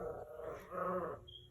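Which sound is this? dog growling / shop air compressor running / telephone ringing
dog growling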